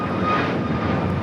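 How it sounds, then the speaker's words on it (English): A Southwest Airlines Boeing 737 MAX 8 takes off at Los Angeles International Airport, its jet engines producing a loud, steady, broadband roar that holds constant throughout, with no voices. "This is Southwest Airlines 2553 taking off to Dallas Love Field on the MAX 8."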